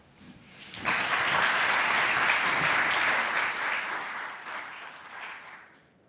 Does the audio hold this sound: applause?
yes